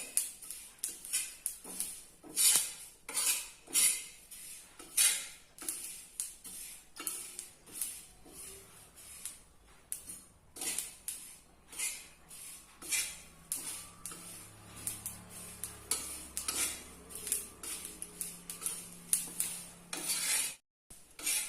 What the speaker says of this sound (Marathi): तिळाला लालसर कलर येईपर्यंत आपण भाजून घेणार आहोत